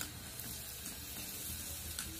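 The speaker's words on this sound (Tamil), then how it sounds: "இதுல நம்ம பெருங்காயம் பொரிக்க போறோம்." A lump of asafoetida fries in hot oil in a pan, a steady dense sizzle and crackle that stays even and close throughout.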